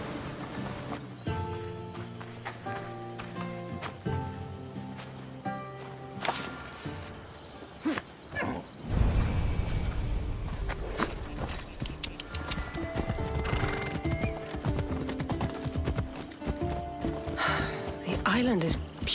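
Horses clip-clop along with an occasional whinny while riding in Assassin's Creed Odyssey, set in ancient Greece, steady hoofbeats mixed under orchestral game music and talking voices.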